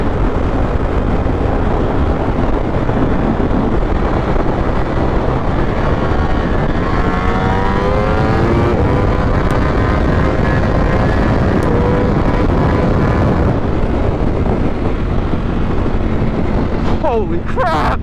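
A Ducati Panigale V4 motorcycle roars at speed, its engine note rising and shifting through gears under heavy wind rush, with a rider's voice heard over the noise.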